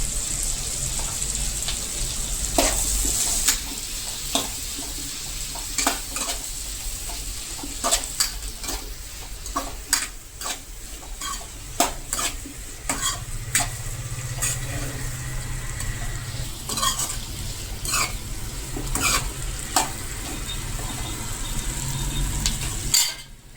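Onions sizzle steadily in a pan while a spoon stirs and scrapes against the metal in irregular clicks and taps, close and clear with no talking.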